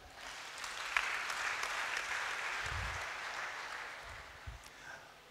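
A church congregation applauds together, steady clapping that holds for several seconds and fades toward the end.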